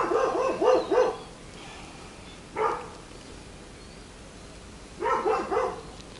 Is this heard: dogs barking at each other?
yes